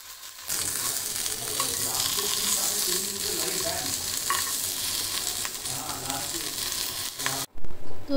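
Fish fries in oil in a pan with a dense, steady sizzle and faint scraping, then cuts abruptly near the end to a couple of loud bumps.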